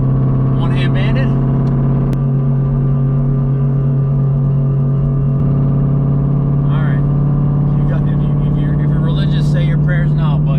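A 1500hp Stage 2 RSP Jeep Trackhawk engine holds a loud, steady low drone at close range, with someone talking over it through most of the clip.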